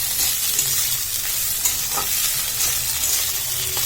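Food frying in white vegetable oil in a pan while being stirred, a steady close hiss and sizzle with faint scraping of the spoon, no voices.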